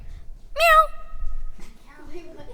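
A single voice imitates a cat's meow, one short rising and falling cry that is fairly loud and close, told as part of a humorous dentist story. Spoken voice and low murmur follow it.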